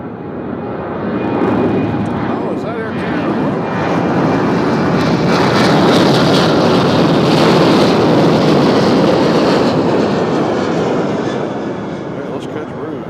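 A passing airliner at Nashville International Airport, a loud, sustained broadband engine roar that swells and holds steady across the whole stretch, with voices talking over it.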